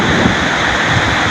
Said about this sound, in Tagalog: Lakas kasi ng alon.